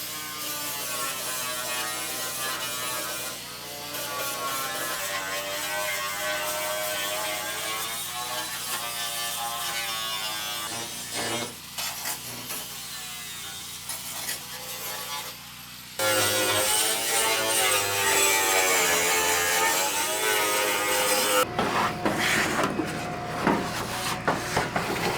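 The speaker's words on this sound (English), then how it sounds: "I'm going to take the old flap wheel and we're just going to chase those welds" A flap wheel on a grinder chases welds across a rotten steel floor in a Ford Super Duty dump truck, a continuous whining grind that shifts in pitch and pressure, briefly easing off before biting in harder.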